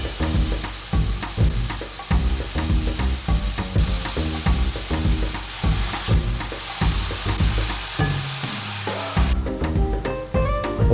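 Tomatoes hit a hot pan and fry for a pork stew, with a steady loud sizzle punctuated by rhythmic stirring scrapes and a brief lull before the frying swells again.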